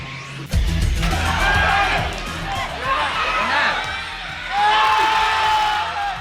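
A crowd cheers and whoops at the NCAA Season 100 women's beach volleyball final between Letran Lady Knights and Lyceum Lady Pirates, a loud outdoor roar swelling in waves, with a commentator speaking over it.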